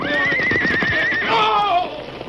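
A horse neighs loudly and close, a long whinny that rises and then falls away, used as a sound effect in a radio drama, with faint hoof clatter beneath and no voices.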